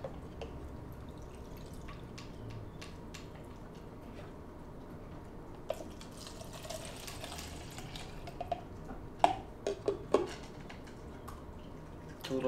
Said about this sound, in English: So you're just gonna wanna pour everything in like this.